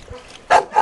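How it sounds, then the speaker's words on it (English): Several dogs, bulldog-type kennel dogs, let out two sharp close barks in quick succession over a quiet background. "The other dogs are having a cow. They think they should be let out of here."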